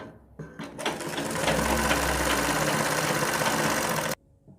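A sewing machine stitches the neck pattern of a kurti in one continuous fast whirring run of about three seconds, starting and stopping abruptly, close and steady with no talk.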